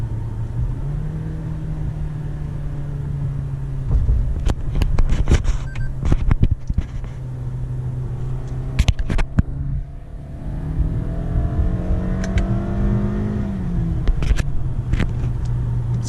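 A 2005 Pontiac Bonneville GXP with its V8 engine revs up and accelerates in sport mode, a steady close drivetrain drone rising in pitch with bursts of louder surging and rattling, no talking over it.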